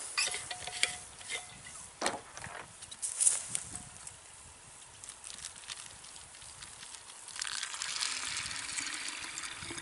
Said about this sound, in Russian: И все это дело заливаем кипяточком.